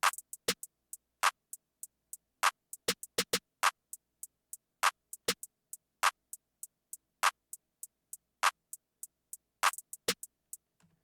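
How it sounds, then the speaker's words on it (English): A programmed drum pattern of hi-hat, snare and clap plays alone, its short crisp hits spaced in an irregular beat over silence. "so like the hi-hat, the snare, and the clap just sounds like this"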